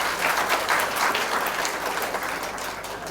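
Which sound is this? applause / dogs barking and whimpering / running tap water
applause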